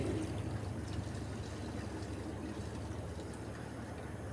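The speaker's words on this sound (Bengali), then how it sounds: "ডালটাকে 3 থেকে 4 বার খুব ভালো করে ধুয়ে নিচ্ছি।" Lentils (dal) are washed in water, with continuous soft sloshing and pouring, steady and fairly quiet, close by and uninterrupted by speech.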